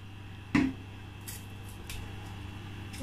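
Scissors cutting through mackerel being prepared for oven smoking give one sharp snip, followed by a few fainter clicks over a steady low hum.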